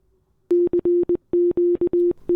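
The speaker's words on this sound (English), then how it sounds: "you can find various messages that were sent by Titanic during the disaster, and they sound like this" Morse code radio messages attributed to the Titanic during its sinking: a single steady, low-pitched tone keyed on and off in a quick pattern of short and long beeps, loud and clean, with no voices.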